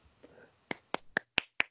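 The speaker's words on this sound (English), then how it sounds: "Clapping for you." Hands clap five times in quick succession, sharp and close, with the claps coming faster and louder toward the end after a brief quiet lead-in.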